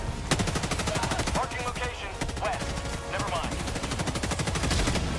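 Rapid, steady automatic gunfire in the video game Helldivers 2, fighting automaton enemies. The rattling shots continue without a break over game noise, while a voice talks faintly underneath.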